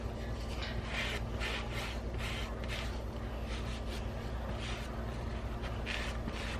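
Wax is rubbed onto wooden spoons with repeated soft strokes along the grain, making faint rhythmic rasping swishes over a low steady hum.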